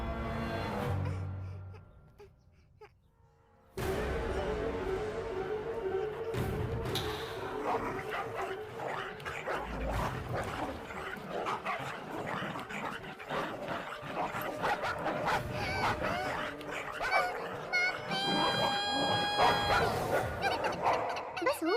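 Dogs bark and yelp at a girl over a mango, a busy chaotic scene with a quiet lull before the noise swells into continuous barking, whimpering and commotion that builds toward the end.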